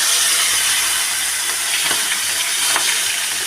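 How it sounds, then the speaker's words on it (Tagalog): A loud, steady sizzling hiss of fish frying in hot oil, continuous and close, with no voices. "Ako po magpiprito po muna ng isdang pang ulam po namin"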